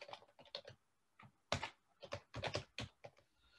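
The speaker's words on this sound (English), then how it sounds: "I'm just typing it in." Computer keyboard keys tapped in quick irregular clusters while code is entered, close and crisp, with short gaps between bursts of typing.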